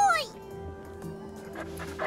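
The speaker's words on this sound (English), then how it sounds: "The dog cowers and whines" A dog in the video game Crystalline lets out a short, high, falling whine at the start, followed by faint soft sounds over a quiet background.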